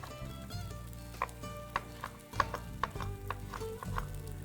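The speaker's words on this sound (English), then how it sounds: "with the green peppers, we're going to cut them into strips" A knife cutting green peppers into strips on a board, producing a series of quiet, irregular chopping taps close by.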